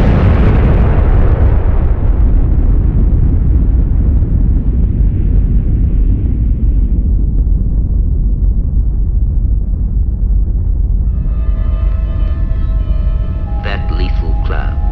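British atomic bomb test explosion at Montebello, a deep, loud rumbling roar that sustains at full strength and slowly thins over fifteen seconds, with faint tonal noises near the end.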